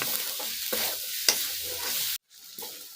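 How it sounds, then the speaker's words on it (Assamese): Ginger frying and being stirred in a pan with onion and garlic, a steady sizzle broken by scraping spatula strokes, then a sudden cut to near silence before the sizzle resumes more quietly. "আদাখিনি মই এতিয়া ভাজি ল'লোঁ।"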